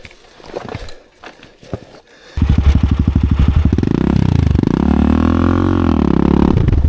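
A dirt bike on a slick rocky slope, first scrabbling and clattering over rock, then its engine fires up loudly, revving and rising in pitch as it pulls away, staying close and steady to the end.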